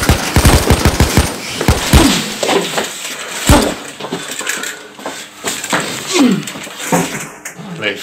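Gunfire in a 2017 independent action-adventure film, opening with a loud rapid burst of shots followed by scattered sharp cracks and impacts in a dense, busy mix of movie sound.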